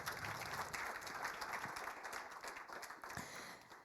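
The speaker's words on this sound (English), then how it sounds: "A round of applause for Jarno from Naked." A conference crowd applauds steadily after a fireside chat, a dense wash of clapping that holds at a fairly even level throughout and thins slightly toward the end.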